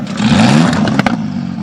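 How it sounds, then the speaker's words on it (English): Several Ferrari 296 Challenge race car engines fire up and rev together at Sebring, a loud rising roar with clattering bursts near the end, close and without talk. "That is the sound of the 296 Challenge cars."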